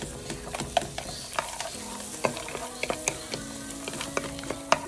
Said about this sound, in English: I'm gonna stir fry this in the butter for a few minutes